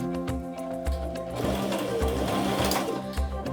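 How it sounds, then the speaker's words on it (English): Domestic sewing machine running a straight stitch through printed fabric doll panels, a steady motor hum with rhythmic needle clatter repeating several times, close and continuous with no talking. "run them through the sewing machine"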